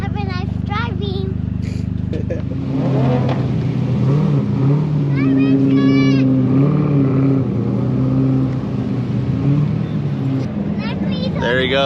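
A Toyota GR Corolla track car pulls away onto the Willow Springs circuit, its engine revving and accelerating in rising and falling pitch sweeps, loud and close, with people talking over it.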